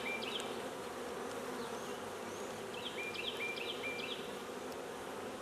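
Honey bees from a new package hum around hive frames, a steady close buzz layered with individual bees droning past, with no voices.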